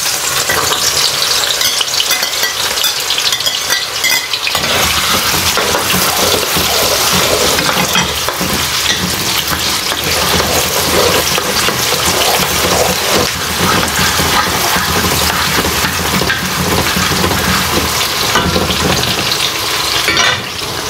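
Onion and garlic sizzle loudly in hot oil in a pan, a steady dense crackle with stirring that runs throughout, the first step of a braised pork humba.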